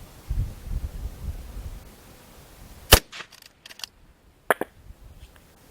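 Two sharp rifle reports from a .223 fired at very long range ring out a couple of seconds apart, each crack loud and clipped, with light outdoor rustle and a few faint clicks between them.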